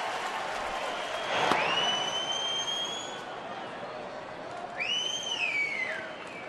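Sellout crowd of 41,000-plus at a major league baseball stadium, a broad wash of applause and crowd noise with sharp rising whistles cutting through, steady and full throughout.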